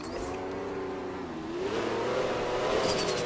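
A car in the video game Taxi Boss accelerating toward top speed, an engine whine rising steadily in pitch over a few seconds, fairly faint and with no talking.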